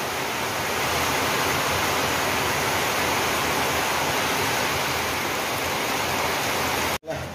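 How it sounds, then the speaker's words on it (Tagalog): Heavy rain pours down in a dense, steady roar with no pauses, cutting off abruptly near the end. "huminto muna sa pag-cutting kasi malakas ang ulan"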